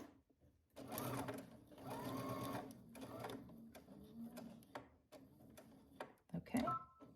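Sewing machine stitching a seam on a Simplicity 9550 garment, several bursts of rapid mechanical whirring separated by short pauses, close and clear, with a voice between runs.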